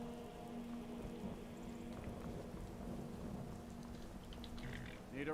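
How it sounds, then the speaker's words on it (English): Steady rain with rumbling thunder in the video game Skyrim, on the road near Dawnstar, a continuous wash of falling drops that holds at an even level for the whole stretch, with no voices. "This rain will stop eventually."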